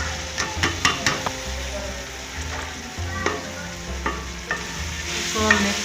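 Mongray and mixed vegetables are stirred into fried fenugreek in a pan: sharp metal spoon clicks and scrapes against the pan over a steady frying sizzle, close and fairly loud.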